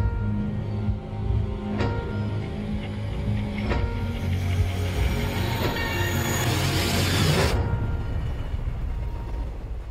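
A passenger train runs along the rails with a steady loud rumble, rhythmic wheel clicks and a rising metallic squeal near the end, and no talk over it.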